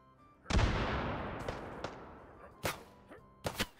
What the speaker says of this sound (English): Oh no, that's a grenade.